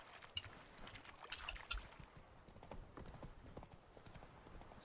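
Roach the horse's hooves clip-clopping in The Witcher 3 video game, a quiet irregular trot of soft hoof falls with faint rustling in the background.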